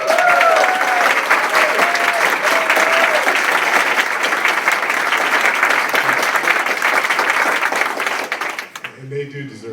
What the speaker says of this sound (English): they do deserve the most applause